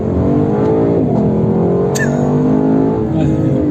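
A Lexus LC 500 with its V8 engine accelerates hard and loud, revving up through a rising, harmonically rich growl that stays close and constant throughout, with a brief sharp squeal partway through.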